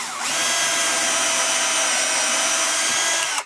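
A power drill bores a small pilot hole for a sliding router table build, one continuous high whine that starts abruptly, holds steady and loud at close range for about three seconds, then cuts off.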